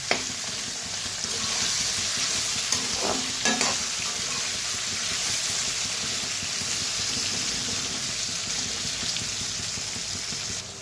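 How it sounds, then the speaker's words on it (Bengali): Okra frying in hot oil while cooking bhindi posto, a steady dense sizzle running throughout with a few brief stirring knocks near the start. "সব ভেন্ডি দিয়ে দিলাম, ভালোভাবে ভেজে নিই"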